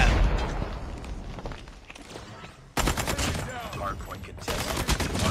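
Striker SMG fire in a first-person shooter video game, with rapid, loud bursts of automatic shots. The fire starts up sharply midway and keeps going amid other gunfire and game action.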